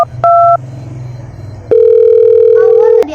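A phone call being placed: two short beeps from the keypad, then a loud, steady line tone holds for over a second, with a faint low hum underneath.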